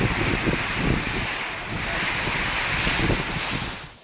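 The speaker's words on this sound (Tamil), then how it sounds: "பலத்த காற்று மற்றும் இடி மின்னலுடன் கனமழை பெய்தது" Heavy rain and strong wind roar steadily through a thunderstorm in Sattur, Virudhunagar district, Tamil Nadu, a dense, unbroken wash of noise that stays loud and close from start to finish.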